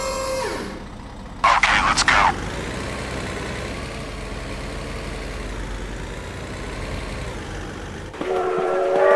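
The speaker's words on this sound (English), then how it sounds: "Oh my god, train!" A train rumbles past in the BeamNG.Drive driving game, a steady loud low roar filling most of the clip, with short bright horn-like bursts near the start and again at the end, and a voice cries out over it.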